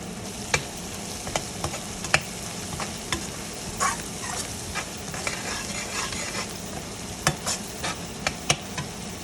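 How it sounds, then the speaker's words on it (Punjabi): Cumin seeds fry and sizzle in a pan, with a steady crackling hiss broken by frequent sharp clicks and scrapes of a spoon stirring against the metal, close and alone without any voices. "ਹਾਂਜੀ ਹੁਣ ਆਪਾਂ ਪਾਵਾਂਗੇ ਇਹਦੇ ਵਿੱਚ ਜੀਰਾ"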